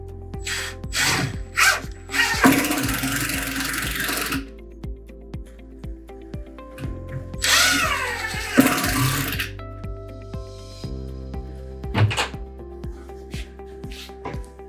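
Power drill drives screws into an Americana corner wall cabinet during assembly, with several short whirring bursts and two longer runs separated by pauses and faint clatter, close by.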